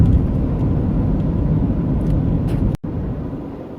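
A car drives slowly past hurricane damage after Hurricane Irma, with a loud, steady engine and road rumble filling the whole stretch and one abrupt dropout near the end.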